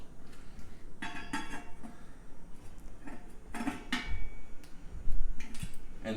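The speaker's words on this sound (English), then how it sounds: "Just put the tool on there and break it off easily and loosen it up. And the rotor pops right off." A tool loosens a Centerlock brake rotor on a bicycle hub before the rotor comes off, heard as a series of close metallic clicks, ratcheting ticks and clinks with a few soft thuds, no talk.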